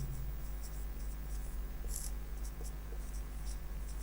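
Pen scratching across paper while working a math problem on a pie chart, a series of short quick strokes in bursts over a low steady room hum, close and fairly faint.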